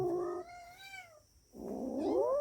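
Cats making weird, scary drawn-out yowls and caterwauls after catching a rat, two close, loud wavering cries separated by a brief quiet gap, with no talk.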